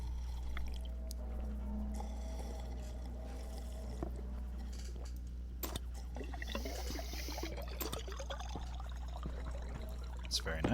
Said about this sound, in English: let's drink some water